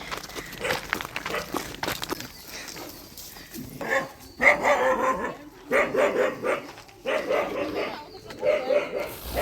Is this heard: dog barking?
yes